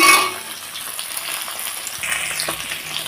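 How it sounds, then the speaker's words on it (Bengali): Batá fish frying in oil in a wok, a bright continuous sizzle that starts loud and settles into a steady hiss, close up with no voices. "এখন ভালোভাবে মাছগুলো ভেজে নেব।"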